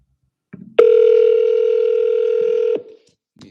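A steady telephone dial tone holds loud and unbroken for about two seconds, with a few faint clicks and rustles just before it starts and again after it cuts off.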